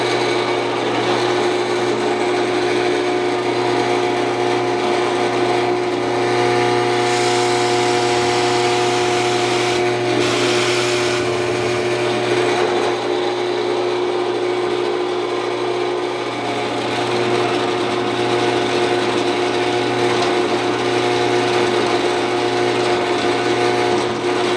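A 2 1/8 inch Forstner bit boring a hole for a router plane base, with a steady, loud motor whine and a grinding cutting noise that runs throughout and swells briefly midway.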